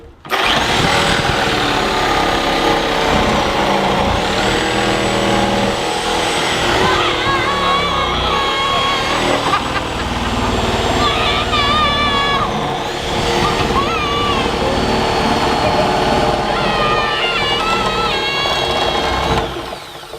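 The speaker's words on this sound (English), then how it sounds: "The sawzall is cutting a little into the barrel, which is fine." Reciprocating saw (Sawzall) cutting into a 55-gallon steel drum, a loud continuous buzzing grind with shifting pitch throughout, mixed with people talking nearby.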